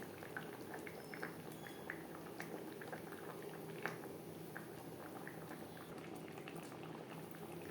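Omelette curry with tomato simmers in gravy, a dense, steady bubbling close by with small popping blips scattered throughout, fairly quiet and with no talking.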